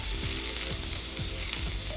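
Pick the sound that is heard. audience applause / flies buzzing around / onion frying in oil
onion frying in oil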